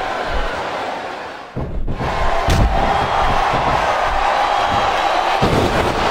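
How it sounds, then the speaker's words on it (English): Arena crowd roar from a women's wrestling match in WWE SmackDown vs Raw 2007 on PS2, a loud steady wash of cheering broken by a heavy slam and thud near the middle. "Listen to the crowd."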